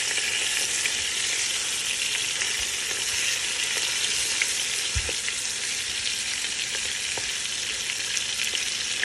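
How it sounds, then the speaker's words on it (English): Rosemary fries in hot oil in a pan, a continuous bright crackling sizzle with scattered pops and the occasional stir, steady and close with no talking. "So the oil is heated up, and we are going to go ahead and fry"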